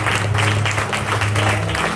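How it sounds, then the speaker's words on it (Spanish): Church congregation clapping hard in rhythm during worship, a loud, dense run of applause with a steady pulse and a low hum beneath it. "Dale el aplauso con fuerza"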